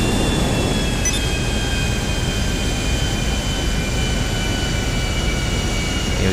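Vespa jet aircraft in GTA V, its engine a loud, constant roaring whoosh with a faint high whine, sustained evenly throughout with no talk over it.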